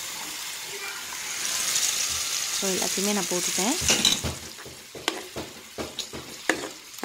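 Ground tomato paste sizzles and fries in a pan for tomato thokku gravy while a spoon stirs and scrapes rhythmically, with brief clinks and someone speaking over the cooking.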